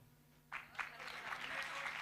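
Applause breaks out suddenly and keeps going, a dense crowd clapping that grows slightly fuller, with some voices mixed in, at a Hindi comic poetry performance.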